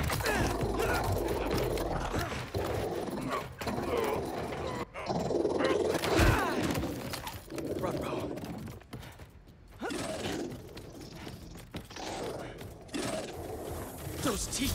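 A robot dog in the video game Marvel's Spider-Man 2 growls and snarls in bursts amid mechanical whirring and clanking combat effects, with talk mixed in.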